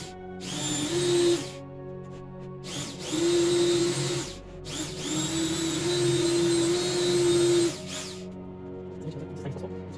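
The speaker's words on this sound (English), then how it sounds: "I drilled the holes on the side for the shelves" A power drill bores holes into a wall for mounting shelves in a studio workspace, with four loud whining bursts of a second or two each, separated by short pauses, the last burst running longest.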